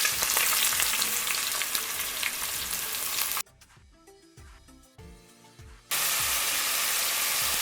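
Large diced onion dropped into a hot pot after seared oxtail, frying with a loud steady sizzle that drops away briefly mid-clip, showing a quieter crackle and stirring, then bursts back to full hissing.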